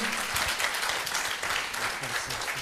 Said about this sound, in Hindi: अरे सर वहाँ से इनके लिए तालियां बजा दो